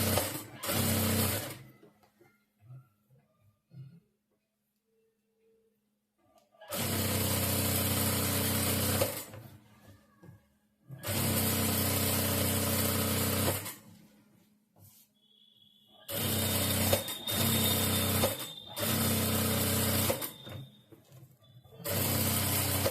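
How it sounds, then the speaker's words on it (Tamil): A sewing machine stitches around a saree blouse lining in four loud, steady bursts of fast mechanical whirring, separated by quiet pauses with faint handling noises. "இதை சுற்றி நம்ம தையல் போட்டுக்கலாம்."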